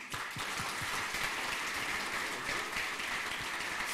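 A conference audience applauds in a hall, giving a dense, even wash of clapping that holds steady from start to finish without any voices over it.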